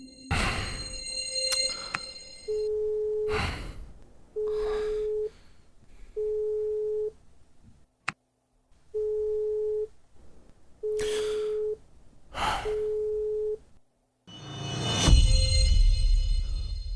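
A telephone busy signal repeats as a steady series of evenly spaced low beeps, each about a second long. Rustling and bumps come before it, and a loud thud or movement noise follows.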